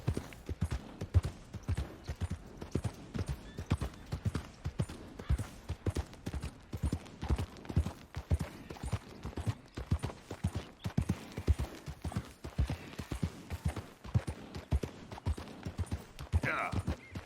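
Horse hooves in Red Dead Redemption 2 clip-clop in a steady, even rhythm on hard ground, holding a moderate volume throughout.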